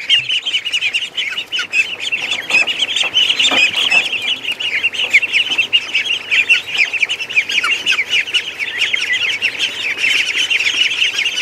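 Loud, continuous honking and squawking from a Chinese goose and other fowl, overlapping calls filling the whole stretch with no voices.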